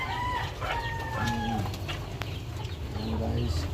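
Chickens cluck and call steadily over a low rumbling background, with faint crow-like calls, as eggs are gathered on a farm.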